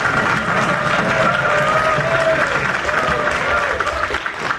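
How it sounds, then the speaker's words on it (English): Loud, dense applause from a conference audience of students closing a two-day international education program, sustained and fairly close, with some voices mixed in as it tapers near the end. "Let's give a huge round of applause for a 2-day successful program."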